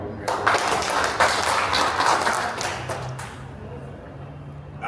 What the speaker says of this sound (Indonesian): Tepuk tangan untuk Forum RW